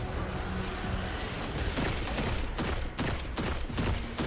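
Enemy gunfire in a Destiny 2 Master Lost Sector, the Sepulcher: rapid volleys of shots crackling in bursts that sharpen into sharp repeated cracks toward the end, set against a constant game background.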